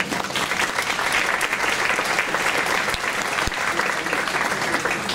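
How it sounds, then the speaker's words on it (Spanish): A crowd at an event in Nariño applauds steadily, dense clapping sustained at an even, fairly loud level throughout. "para quienes les pido un fuerte aplauso"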